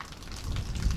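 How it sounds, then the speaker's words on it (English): Rain falls outdoors over a farmyard where chopped beet sits in an open trailer, a steady broadband hiss with low rumble lasting about a second, with no voices. "as the rain comes down"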